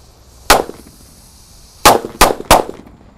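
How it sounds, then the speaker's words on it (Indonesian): A pack of Keraraja firecrackers going off outdoors: one sharp, loud bang, a pause of over a second, then three more quick explosive cracks in close succession, each with a short ringing tail, heard nearby with no talk. "ini ada 1 pak mercon Keraraja, kita nyalakan ya."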